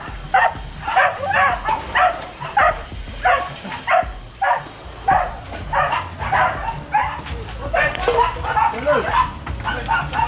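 A dog yips and barks in quick repeated bursts, fairly close, while people talk alongside it throughout.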